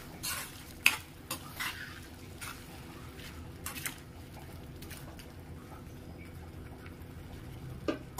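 Fried ingredients being stirred in a pan while cooking gongura, with soft frying noise underneath and a few sharp scrapes and clinks of the spoon against the pan at irregular intervals.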